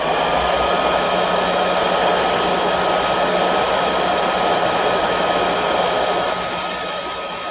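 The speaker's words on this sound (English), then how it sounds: "I'm holding the heat gun actually pretty close" A heat gun held close cures a polymer clay miniature chair, blowing a steady, loud, unbroken hiss that barely fades toward the end.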